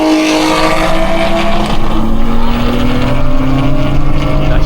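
A BMW M2 engine pulls hard on a race track, its loud, close drone rising steadily in pitch as it accelerates through the gears for a few seconds, with no speech over it.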